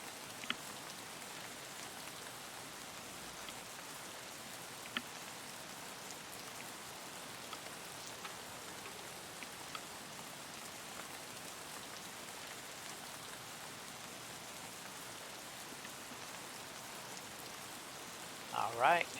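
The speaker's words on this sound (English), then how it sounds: "The rain should help give me concealment." Steady rain in Escape From Tarkov, a soft, even patter hissing across the whole stretch at low level, with a few small sharp knocks and a louder cluster of clicks near the end.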